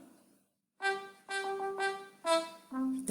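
Sustained brass instrument notes from an exam listening excerpt, about five held tones in a solo phrase, clear and moderately loud after a brief quiet start, with no talking.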